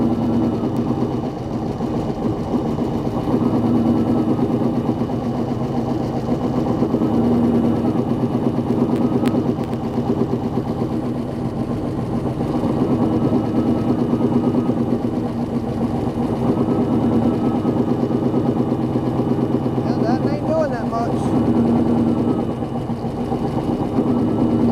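A race car or hot rod engine runs steadily nearby during a cylinder power balance test, with a continuous loud, slightly uneven chugging drone throughout, no talk.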